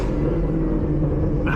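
Supercharged LT4 V8 in a Camaro ZL1 under hard effort, a steady loud low rumble with a faint high whine riding above it, and no talk.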